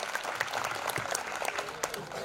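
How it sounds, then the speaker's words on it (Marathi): An audience claps for a teacher at an ideal teacher award ceremony, a dense, steady round of applause from a crowd indoors, with a voice faintly heard beneath it. "एकदा जोरदार टाळ्या होऊन जाऊ द्या"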